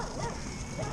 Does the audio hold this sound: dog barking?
yes